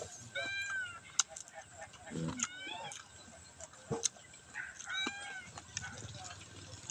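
Several pet cats meow repeatedly in short, rising calls close by, mixed with clinks and someone talking.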